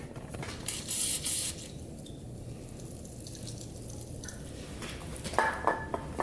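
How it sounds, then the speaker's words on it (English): Two short hissing sprays of WD-40 lubricant on a Yamaha Breeze quad, a brief burst near the start and another toward the end, with a quiet low rumble filling the gap between them. "So let's get some WD-40, get that sprayed."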